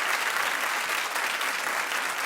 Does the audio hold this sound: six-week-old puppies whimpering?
no